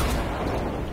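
Rocket explosions in the video game Fortnite: a dense, loud, rumbling blast with sustained low boom and debris noise, continuous through the brief moment, with no talking.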